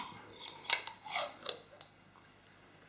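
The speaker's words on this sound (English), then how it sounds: "Now I haven't got a lot in the pot, but just give it a quick mix up." A utensil stirs a small amount of Dijon mustard sauce in a pot, producing faint, quiet clinks and scrapes in a few short bursts against near silence.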